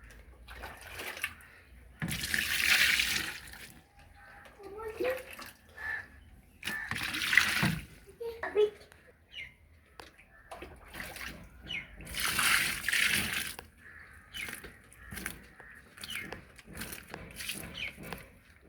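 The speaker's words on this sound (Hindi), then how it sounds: "मैं अब इसमें गर्म पानी ऐड करने लगी हूँ" Hot water filling an automatic washing machine drum, pouring and splashing steadily with louder surging bursts over a soft trickle, close by.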